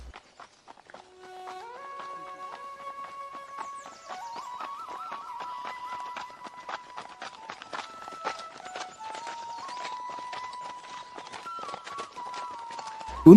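Horses' hooves clip-clop steadily as two friends ride side by side in a cartoon, a continuous walking rhythm under a light musical background.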